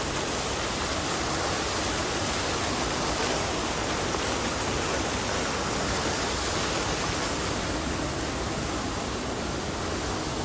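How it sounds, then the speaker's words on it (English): An indoor waterfall in Bangkok's EmQuartier mall gives off a dense, unbroken rush of falling water, loud and steady throughout, with no voices. "then they have the waterfall"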